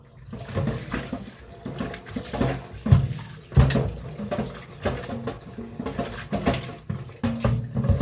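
Tap water runs steadily into a sink during washing up before cooking, splashing and gurgling up close with uneven bursts as hands or dishes move through the stream.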